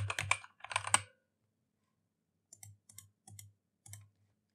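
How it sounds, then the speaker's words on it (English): Computer keyboard typing close up: a quick cluster of keystrokes, a pause, then four softer separate key presses, with no talk. "you can just press Ctrl F and then type in ControlNet"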